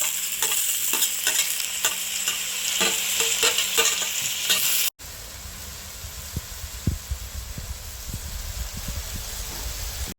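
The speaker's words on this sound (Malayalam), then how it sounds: "അപ്പോൾ നമ്മൾ തക്കാളി ഇവിടെ നന്നായിട്ട് വഴണ്ട് വന്നിട്ടുണ്ട്" Tomatoes sautéing with onions and curry leaves in a pan crackle loudly under brisk, rhythmic stirring scrapes, then the sound cuts abruptly to a lower, rumbling sizzle.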